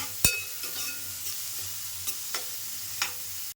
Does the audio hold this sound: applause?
no